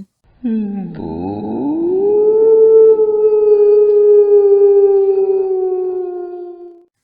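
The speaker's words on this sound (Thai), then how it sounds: "และแทรกด้วยเสียงหมาหอน" A single dog lets out a long, drawn-out howl, rising at first then holding a steady mournful pitch for several seconds before fading.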